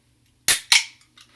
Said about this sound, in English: and we'll open a Perrier